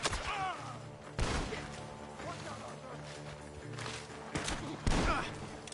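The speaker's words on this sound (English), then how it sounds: "The gunshots are coming from that..." Video game gunshots crack in several sharp, loud bursts at uneven intervals amid game sounds and effects, with a voice speaking over part of it.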